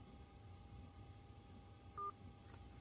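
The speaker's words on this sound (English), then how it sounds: "or share your opinion with Governor Witmer, please press 1 to leave a voicemail." A single short telephone keypad tone beeps once over quiet line hiss on an automated state government voicemail line, brief and clear.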